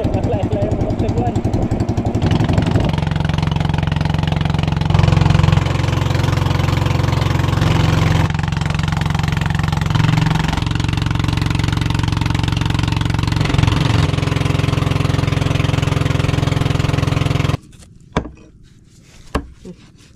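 A faltering engine idles with a rough, chugging rumble for most of the stretch while people talk over it, then cuts out, leaving quieter surroundings with a few knocks.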